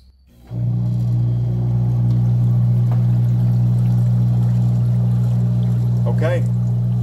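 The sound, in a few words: air pump bubbling air through compost tea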